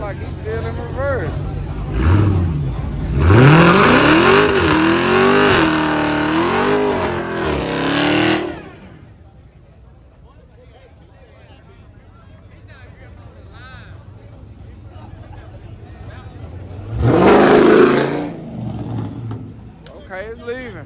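Street racing car at a hood track revs hard and loud with rising and falling engine pitch, then drops off into distant crowd murmur before another loud roaring pass near the end, with people talking throughout.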